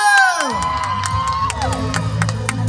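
A crowd at a rural longan festival beauty pageant in Yasothon cheers loudly for contestant number one, a sustained burst of shouts, whoops and high children's voices rising together close by after a brief emcee's voice.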